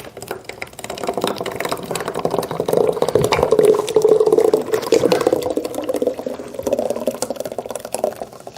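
Dairy-free ice cream mix pours from an opened bag into a container, a steady close gurgling, splashing stream that swells in the middle and tapers off.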